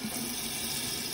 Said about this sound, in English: I do rinse one or two more times